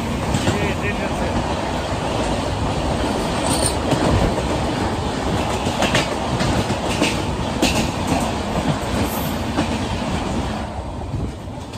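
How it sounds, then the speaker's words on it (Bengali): The Kamrup Express rolling along at night, heard from beside an open carriage door as a loud, constant roar of wheels and rushing wind with faint rhythmic clatter throughout. "ট্রেন যাচ্ছে।"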